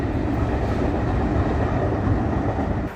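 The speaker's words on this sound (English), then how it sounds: "There's a train." A train rolls past along a railway beside a walking path, a loud, continuous rumble with wheel clatter that holds steady before cutting off.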